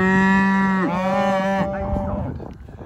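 A cow with a necrotic foot, standing in a farm's bottom field, gives one long, loud moo that rises and falls, then fades into outdoor noise.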